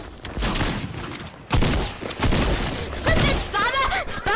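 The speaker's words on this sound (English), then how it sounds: "I know what shotgun that is." Shotgun blasts in the video game Fortnite, several loud booming shots in quick succession with a player talking over the gunfire.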